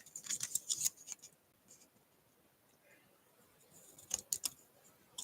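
Scissors snip through paper concert tickets at a cardmaking table, a quick run of close, crisp cuts, a quiet pause, then another short cluster of snips.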